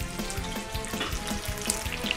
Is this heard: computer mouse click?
no